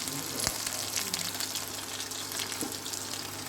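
Mutton boti kabab pieces frying in oil in a pan, cooked on both sides in desi style, giving a steady, fairly quiet sizzle with a couple of brief louder pops and crackles near the start and end.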